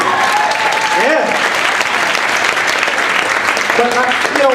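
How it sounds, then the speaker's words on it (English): Audience at a comedy club bursts into loud, sustained applause with scattered cheers and whoops, steady clapping filling the room throughout. "You can clap for that, it's all right."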